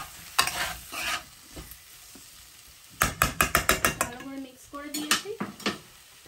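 A spoon stirs spiced potato and okra curry in a metal pan, giving a quick run of sharp scraping clanks over a low sizzle, with a brief murmur of voice between bursts.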